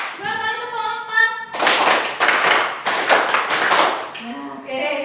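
In a classroom clapping routine, two rapid rounds of four hand claps crack out loud and near, bracketed by a teacher's chanting voice on either side.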